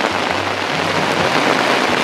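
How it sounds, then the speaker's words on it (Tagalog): Heavy rain pours steadily onto a surface outdoors in the Philippines, a loud, dense, unbroken hiss of drops with no voices over it. "Lakas-lakas ng ulan."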